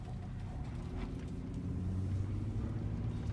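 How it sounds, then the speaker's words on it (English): Low, smooth engine hum of a 2012 Nissan Frontier PRO4X pickup rolling at low speed, quiet and steady from inside the cab with a slight rise toward the end. "So we're gonna go ahead and take this Frontier out on the main road."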